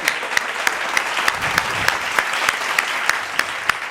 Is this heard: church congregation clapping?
yes